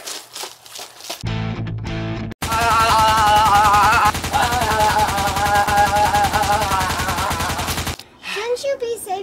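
Gunfire in a first-person shooter video game, with sustained rapid automatic bursts that are loud and distorted, framed by brief quieter moments at the start and end where game sounds and voice-like effects are heard.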